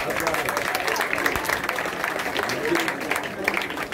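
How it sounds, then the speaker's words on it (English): An audience at a ceremony claps together in a steady, even wash of applause lasting the whole stretch, fairly close and full, with faint crowd murmur underneath. "So clap for yourself."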